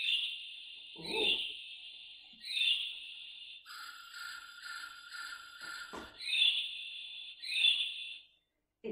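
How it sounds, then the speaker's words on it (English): Shrill, repeated whistling calls of a kiwi bird, several rising cries spaced apart in a quiet setting, with a few soft knocks between them. "It's a kiwi bird."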